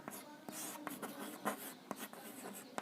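A pen scratches across paper while a Class 10 Hindi maths solution is written out, giving soft, close, irregular strokes and taps over quiet room tone.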